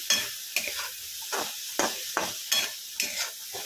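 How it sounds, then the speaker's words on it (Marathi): Soybean curry with green and red masala being sautéed in a pan, a spoon scraping and stirring in about eight regular strokes over a light sizzle, close and alone with no talk. "10 मिनिटं हिला छान असं परतून घेऊया"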